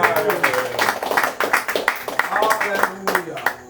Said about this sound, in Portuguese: Bate palmas para o Senhor Jesus Cristo.